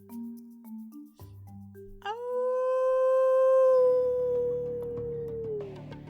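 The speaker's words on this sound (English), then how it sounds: "you hear a haunting howl echo in the distance" A long, sustained jackal howl rising and holding steady before fading with an echoing tail, heard after some low tonal sounds and followed by faint scattered noise, moderately loud and solitary.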